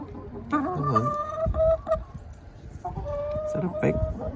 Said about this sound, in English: Oh, hi, chicken.